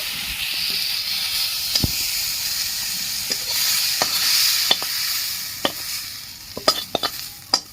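Bangladeshi jute leaves fry in a wok with a loud steady hissing sizzle, broken by scattered sharp scrapes and taps of a spatula stirring, ending in a cluster of clattering strokes.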